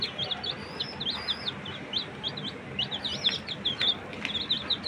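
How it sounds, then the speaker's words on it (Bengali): Baby chicks, bought two nights earlier and kept at a home farm, chirp in rapid, high repeated peeps, several birds overlapping close by over a low steady background hum. "ফার্স্টেই আছে মুরগির বাচ্চা, যেটা পরশু দিন রাত্রে কিনছিলাম।"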